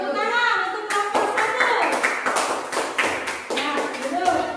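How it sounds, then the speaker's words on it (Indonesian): Schoolchildren in a classroom clap for a group, a burst of quick, irregular claps and taps blended with chattering children's voices. "ayo tepuk tangan untuk kelompok"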